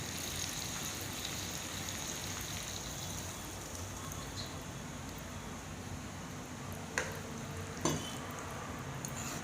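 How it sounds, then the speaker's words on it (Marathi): Water is poured into a pan of chana masala, giving a soft, even hiss that runs steadily throughout, broken by two brief clicks near the end. "पाणी टाकूया."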